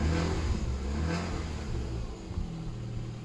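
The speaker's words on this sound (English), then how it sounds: "And listen to that engine. That is running sweet as now." A Ford Fiesta's newly replaced engine idles close by with a steady low rumble and a slight rev, running smoothly without voices.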